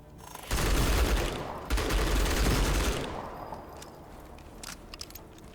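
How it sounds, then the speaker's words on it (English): A burst of heavy automatic gunfire from the sci-fi shooter Outpost Infinity Siege rattles loud and close for about two and a half seconds, then trails off into scattered lighter shots and echoes. "Being shot at."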